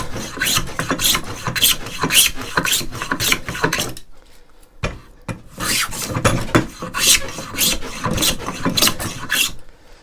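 A hand plane rasps repeatedly along the corner of a clamped wooden leg, rounding it toward an oval section, in steady close strokes with a brief pause midway.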